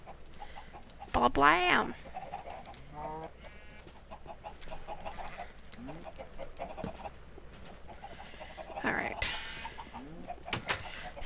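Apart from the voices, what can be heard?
chickens clucking in a video game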